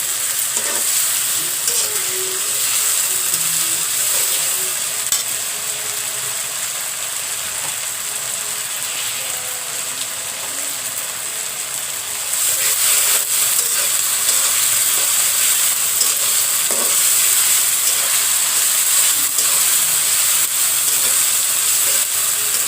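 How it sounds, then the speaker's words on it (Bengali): Meat with ginger garlic paste sizzles steadily in hot oil, a continuous close frying hiss with occasional stirring scrapes, growing slightly louder partway through. "এখন আমি সবগুলো একটু ভেজে নেব।"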